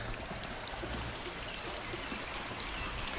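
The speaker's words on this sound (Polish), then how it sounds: "cała rzeka" A street runoff stream flows into a larger river, a continuous broadband rushing and trickling of water, steady and moderately close, with no voices over it.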